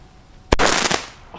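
A small Cubies firecracker bursts outdoors in cold spring weather with one sharp, loud crack followed by a short crackling tail that fades within about half a second.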